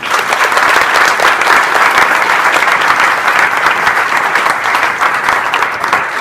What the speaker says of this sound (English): Let's give Cristina another round of applause